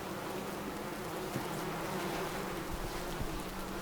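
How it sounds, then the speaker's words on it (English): Moths in the video game White Night make a steady, dense insect buzz much like a swarm of bees, droning evenly throughout with a few faint clicks. "Are these moths? They sound like bees."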